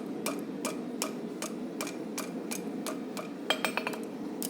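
A railroad spike being bent over the horn of an anvil while forging a knife gives a steady run of sharp, ringing metal strikes, about two per second, then a quick cluster of lighter taps near the end, over a constant low hum of background noise.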